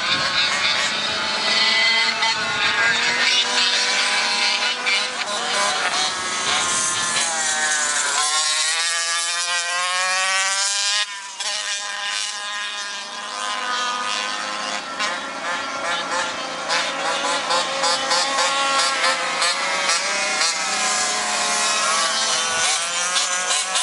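Small 29cc Go-Ped racing scooter engines scream at high revs, nearly constant and loud, with a dip and then climbing whines as they pass and accelerate.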